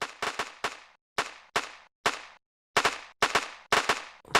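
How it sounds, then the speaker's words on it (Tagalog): Cartoon pellet guns fire in rapid bursts of sharp cracks, close and loud, in irregular clusters of two and three shots with short gaps, no voices over them. "may bumabaril sa atin"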